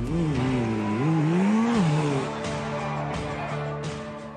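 A compact Porsche sports car of 540 horsepower revs its engine, with a loud rising and falling growl that climbs in pitch and then settles into a steady roar, close and alone.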